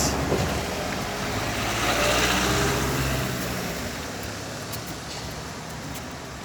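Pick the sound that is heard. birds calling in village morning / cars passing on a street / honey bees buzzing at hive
cars passing on a street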